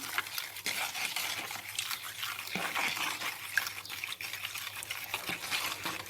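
A spoon steadily stirs a mixture of grape vinegar and tap water in a kitchen container, making a continuous soft swishing and light clinking. It stays close and fairly quiet, with no talking.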